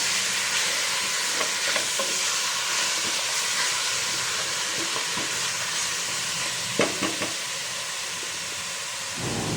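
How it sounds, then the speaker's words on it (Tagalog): Pork belly sautés in a pan with a steady, close sizzle and hiss, broken by a few scraping stirs. "So igigisa lang natin yan para magkalasa na yung ating pork belly."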